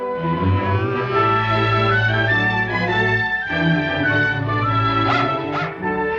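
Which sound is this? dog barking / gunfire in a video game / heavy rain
dog barking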